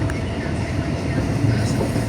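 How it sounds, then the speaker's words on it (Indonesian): A KRL commuter train rumbles low and steady as it pulls away from the platform at Nambo Station, Indonesia, a continuous heavy drone with faint rattling, close by. "Kini, ketika KRL perlahan meninggalkan peron"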